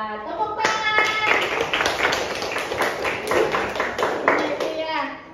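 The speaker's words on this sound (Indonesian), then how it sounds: "Iya, tepuk tangan." Applause and clapping from a classroom crowd during a science peer-teaching session, a steady dense patter of many hands lasting several seconds, with children's voices mixed in.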